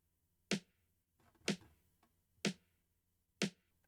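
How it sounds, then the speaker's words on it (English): An unprocessed snare drum sample in a mix strikes four times at an even one-second spacing, each hit a short, dry crack fading quickly into near silence. "So you can see this snare here sounds like this."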